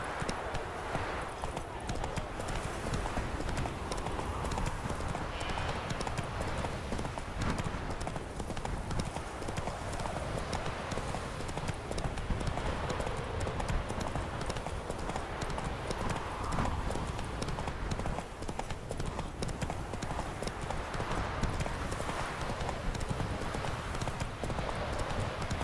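Roach, Geralt's horse in The Witcher 3, gallops with steady, rapid hoofbeats that run unbroken throughout, close and even in volume over a noisy outdoor game backdrop.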